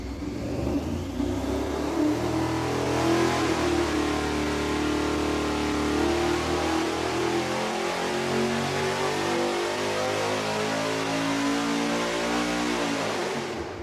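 A V8 engine on a dyno breathing through MagnaFlow quad mufflers and Hooker headers, held at a loud, sustained wide-open roar that climbs steadily in pitch before cutting off abruptly.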